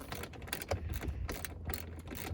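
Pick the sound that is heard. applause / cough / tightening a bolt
tightening a bolt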